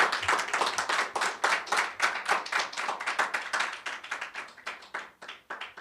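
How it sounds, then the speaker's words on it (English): An audience at a news conference held by Target boycott organizers marking the end of their fast claps in steady applause, a dense patter of hands close by that thins toward the end. "Would you give them an applause, please?"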